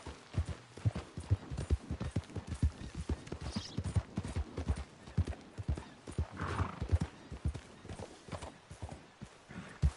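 Horse galloping in the video game Red Dead Redemption 2: rapid, steady hoofbeats pound close and loud throughout, with a brief whinny heard partway through.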